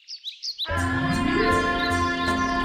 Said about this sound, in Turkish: Yavrular şarkı söylemeye başlayınca